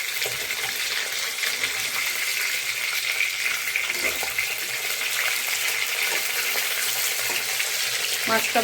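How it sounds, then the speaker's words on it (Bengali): Fish sizzles steadily as it fries in a pan for a curry with raw pumpkin, a dense continuous crackle with a few sharper spits and taps near the end and no talking. "মাছ তো ভাজা হচ্ছে"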